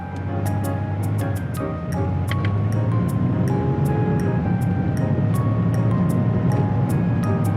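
A Land Rover Defender 110 D350, apparently towing a trailer, pulls away from a traffic-light stop. A steady engine and road drone builds gradually under a regular ticking click.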